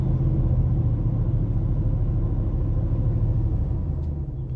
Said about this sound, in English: I'm just gonna rev this thing up a bit.